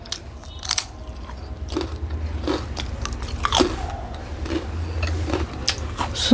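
Homemade potato chips crunch up close in a series of loud, crisp bites and chewing crackles, with no talk over them.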